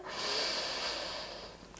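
A long, deep breath drawn in through the nose during a Pilates exercise, close and fairly soft, a steady airy rush lasting under two seconds with no talk.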